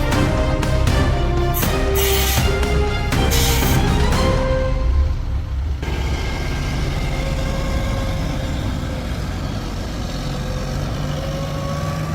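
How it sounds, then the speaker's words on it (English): A Shacman X3000 heavy truck, stuck on a steep switchback, revs its engine in several rising bursts, then settles into a lower, steadier drone, loud and close with no speech. "Now he is revving the engine just to build up air pressure for another backup attempt."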